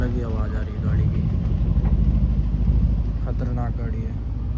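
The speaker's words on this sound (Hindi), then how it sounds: "अलग ही आवाज़ आ रही है गाड़ी की," A passing car with an odd, unusual-sounding engine, a loud low rumble that holds steady for several seconds, with voices talking over it throughout.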